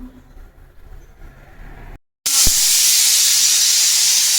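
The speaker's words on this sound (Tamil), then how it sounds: "கொள்ளு வச்சு விசில் வந்துருக்கு." Pressure cooker cooking horse gram, a quiet stretch of low room noise, then a sudden loud, steady hiss of escaping steam bursting in after a brief gap and continuing to the end.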